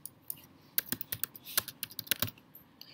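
Keys on a computer keyboard are tapped in a quick, uneven burst of close, crisp clicks while text is typed into ArchiCAD 21, with no voices.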